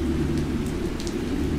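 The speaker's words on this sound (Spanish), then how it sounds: "Entonces comienza a llover y cubre su testa con el saco" Steady rain falling at night, a constant close hiss with a low rumble underneath and occasional sharper drops, continuing evenly throughout with no voices.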